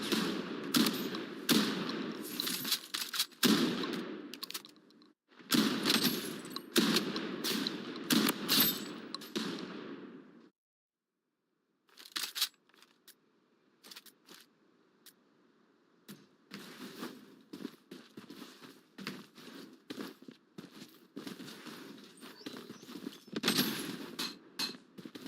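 Heavy gunfire in a video game, with dense bursts of rapid shots in several long volleys. A short silent gap breaks them, then quieter, scattered shots follow before the firing builds again.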